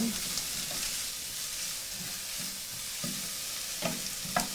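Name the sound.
onion refogado sautéing in a pan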